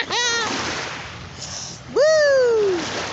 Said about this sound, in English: Big old waves.